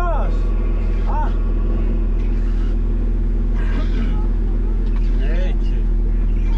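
An off-road racing car engine drones with a constant low, heavy rumble at an off-road trophy event, loud and close throughout, while voices shout over it.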